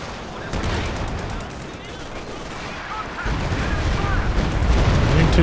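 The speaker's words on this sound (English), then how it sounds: "walking Stuka out now for scoped" Walking Stuka rocket artillery fires in a Company of Heroes 2 match, a dense, continuous roar of rocket launches and explosions building louder toward the end, with a commentator's voice in the mix.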